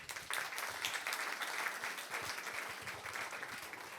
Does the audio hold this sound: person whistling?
no